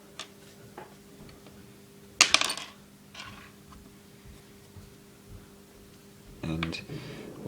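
Small metal screws clink and rattle while a Nerf Long-Strike blaster is rebuilt, with a sharp cluster of clicks, scattered light taps and a second rattle near the end over a faint steady hum, with someone talking quietly.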